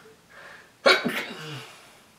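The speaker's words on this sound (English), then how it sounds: "I'm about to sneeze" A single sharp sneeze bursts out after a quiet breath, followed by a brief trailing exhale.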